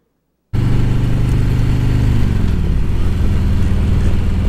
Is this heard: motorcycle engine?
yes